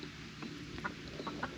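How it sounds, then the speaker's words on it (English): Blue-legged chickens and roosters cluck softly at a moderate distance in a pen, scattered short clucks over a steady low background hum. "notice the chickens and roosters in here with the blue legs"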